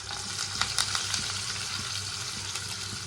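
Chopped onions and green chillies fry in hot oil with fennel in a pan, giving a close, steady crackling sizzle with a few light stirring clicks and no voices.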